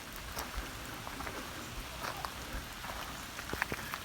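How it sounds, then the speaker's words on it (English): Light rain patters on a Kelty Noah's tarp outdoors at a campsite, giving a soft, steady wash of faint drips with a few louder drops near the end. "It's starting to rain, so I put up my tarp"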